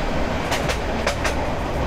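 A Nazirhat local train rolls past close by, its steady loud rumble broken by a few rhythmic clacks of wheels over rail joints, with no voices.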